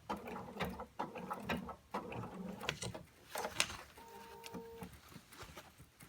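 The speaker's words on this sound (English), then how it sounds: "I move my presser foot up" A sewing machine's presser foot lifts with a short mechanical whir and click amid continuous machine rattle, close by, during work on a denim jeans front zipper.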